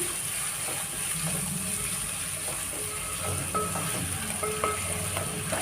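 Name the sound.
dried red chillies frying in a pan, stirred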